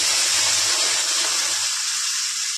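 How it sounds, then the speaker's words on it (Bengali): Hot water goes into a pan of frying vegetables, setting off a loud burst of hissing steam and bubbling that fades slightly before cutting off. "গরম জল দিয়ে দিচ্ছি,"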